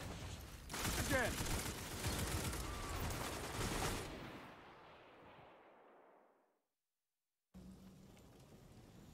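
A dense barrage of booming explosions and gunfire rumbles for several seconds, then fades into silence before quieter battle noise resumes.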